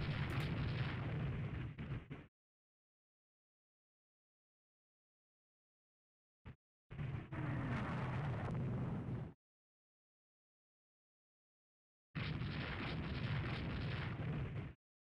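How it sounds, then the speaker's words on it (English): Naval gunfire from 6-inch shells in the video game Rule the Waves 3 comes in three separate loud, booming roars of a couple of seconds each, split by silence, with one brief click between them. "6-inch shells."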